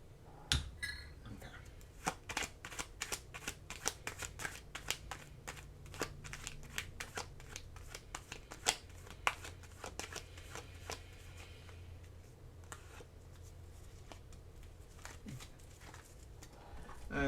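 Tarot cards being shuffled by hand, a steady run of crisp, papery riffles and taps close up, with a few brief soft sounds in between and no voice.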